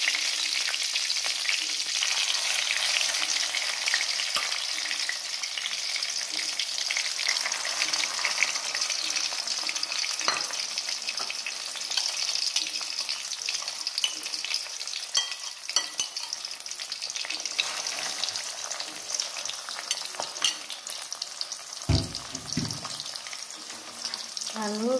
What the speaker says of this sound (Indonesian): Lalu kita goreng, diaduk-aduk ya pakai sambal padang.